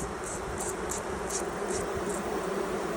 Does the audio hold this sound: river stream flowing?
no